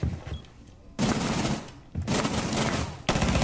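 SMG gunfire in Rainbow Six Siege comes as loud, sustained full-auto bursts, three of them, each starting abruptly and separated by short gaps.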